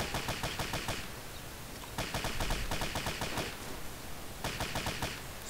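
Gunfire in the military shooter ArmA 2: three rapid automatic bursts of rattling shots with short gaps between them, moderately distant, no talking.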